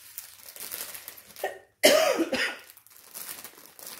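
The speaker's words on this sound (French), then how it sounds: "Je m'excuse pour ma toux." A single harsh cough bursts out close by, preceded by a short throaty sound, then quiet room noise.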